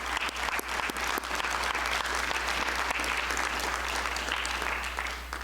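An audience at a school board meeting applauds steadily for several seconds, a dense wash of many hands clapping at moderate volume with a low steady hum beneath.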